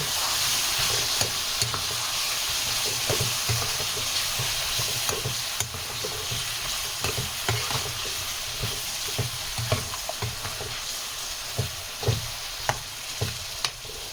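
Chicken and spices mixed with yogurt sizzle in a kadai over medium flame, a steady frying hiss broken by regular scraping and clacking strokes of a spoon stirring the pan, close and clear.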